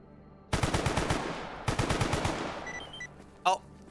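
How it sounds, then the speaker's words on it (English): Suppressed gunfire from a silenced weapon in a video game crackles in two rapid bursts, fairly close, followed by brief game effects and a short voice. "we're getting shot by like a silenced gun"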